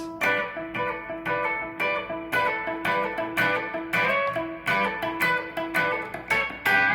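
Distorted electric guitar plays a solo lick as a run of rapid repeated picked phrases, bright and steady over several seconds, with no voices.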